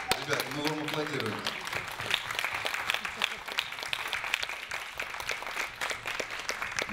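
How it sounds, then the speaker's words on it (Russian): A room full of people clapping steadily, with a brief voice at the start and crowd murmur mixed in. "Ребят, мы вам аплодируем."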